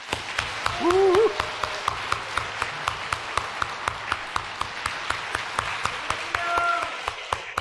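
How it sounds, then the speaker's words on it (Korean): Church congregation applauding at a Korean Easter Sunday service with communion, a continuous wash of clapping with regular sharper claps standing out, and a brief voice near the start. "격하게 박수 한 번 더 하겠습니다."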